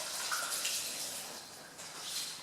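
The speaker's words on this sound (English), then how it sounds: "Just rinse off my hands here." Tap water running steadily into a kitchen sink while hands are rinsed under it, a close, continuous hiss with slight splashing shifts, no talking.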